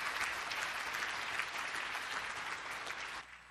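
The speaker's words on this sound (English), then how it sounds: "Let's give him a big round of applause" A crowd applauds a speaker at an agricultural stakeholders summit, dense continuous clapping from a large audience, even and sustained before tapering off abruptly near the end.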